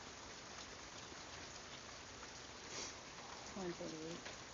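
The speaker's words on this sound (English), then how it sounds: "it's raining outside" Rain pours outside at night, a continuous soft hiss of drops on surfaces heard from indoors, fairly faint, with brief voice-like murmurs near the end.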